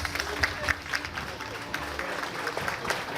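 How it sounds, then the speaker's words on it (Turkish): Audience at a dental clinic branch opening launch in Istanbul applauding, a steady close clapping from a small crowd with some talk mixed in. "Sizlere de büyük bir alkış."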